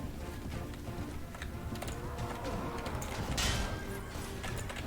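A horse whinnies loudly in the Prophesy of Pendor video game as it is struck down in battle, its neigh mixed with hoofbeats and clashing combat noise, with no talking over it.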